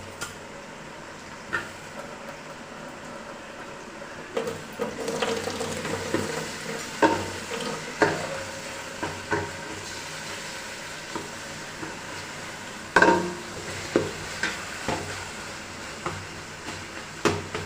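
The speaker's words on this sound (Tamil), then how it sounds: "வெங்காயம் நல்லா வதங்கினதும் அதுக்கப்புறம் தக்காளி போடணும்" Onions and tomatoes sautéing in a pan for coconut milk rice, a soft steady sizzle with scattered spatula clinks and scrapes, stirring strokes growing busier partway through, no talking.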